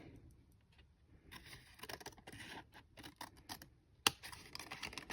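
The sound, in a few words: scissors cutting paper for junk journal envelope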